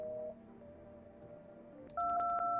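Electronic keypad tones sound in a video game as a phone number is entered: a sustained tone, then a bright dual tone at the end broken by several quick key clicks.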